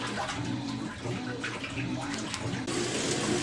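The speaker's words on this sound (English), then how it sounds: "So here we are in the wash cycle. Everything's working correctly. Even the agitator's spinning back and forth." Sears Kenmore Elite Oasis washing machine in its wash cycle, agitator sloshing water back and forth, giving a steady, fairly faint rushing, splashing wash with no voices.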